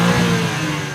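A BMW M4 xDrive Competition's S58 twin-turbo straight-six revs in a brief, loud, sustained tonal drone with steady harmonics, close by, no voices.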